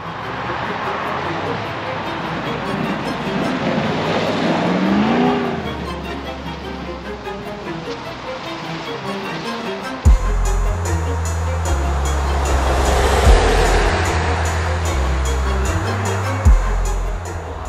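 A 2022 Jeep Grand Wagoneer with a big V8 cruising on the road, a moderate engine and tire rumble rising and falling, with a shift to a deeper, louder drive partway through and someone talking over it.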